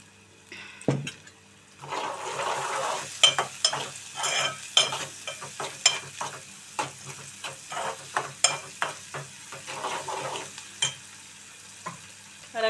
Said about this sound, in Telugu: ఉల్లిపాయ ముక్కలు త్వరగా మనకి వేగాలి, మెత్తబడాలి అంటే కొద్దిగా ఉప్పు అయితే వేసుకోవాలి.